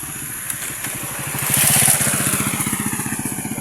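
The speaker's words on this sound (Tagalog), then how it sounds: "Mga motor na dumadaan dito" Motorcycle engines buzz close by, swelling as one passes and then sputtering in a steady rhythmic putter as it moves on.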